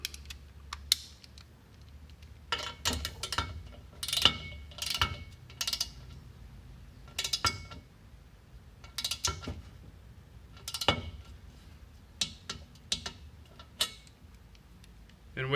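A torque wrench set to 71 inch-pounds works a fastener with a run of sharp ratcheting clicks and mechanical taps, close and fairly quiet, coming in irregular bursts with no talking.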